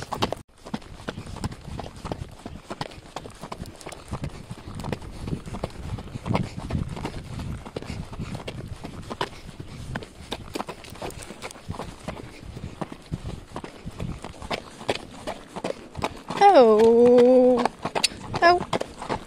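Hooves of a horse ridden at a walk on an outdoor path, steady uneven clip-clop close by across the whole stretch, with a car horn-like tone and louder sounds near the end.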